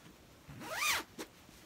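A blue zip on a cherry red twill tote bag is pulled open in one quick rasping sweep, followed by a brief second tug, close and crisp against a quiet background.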